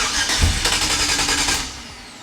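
A turbo LS-swapped Foxbody Mustang engine cranks and catches, a loud, close burst of rough mechanical roar with quick pulsing that drops back after under two seconds.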